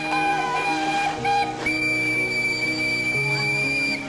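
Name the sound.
twin-tone locomotive whistle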